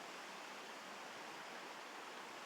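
A woodland stream rushes steadily as a continuous, even wash of broadband water noise, fairly quiet and unbroken throughout, with no voices.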